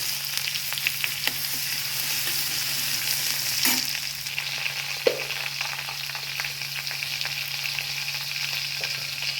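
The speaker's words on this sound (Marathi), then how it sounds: "चला तर मग आपलं तेल तापलेलं आहे याच्यामध्ये मी लसण अद्रक आपलं सॉरी मी याच्यामध्ये टाकत आहे कोथिंबीर लसण जिरे याची पेस्ट" Garlic, ginger, coriander and cumin paste frying in hot oil, a steady loud sizzle with occasional stirring scrapes and crackles, no talking.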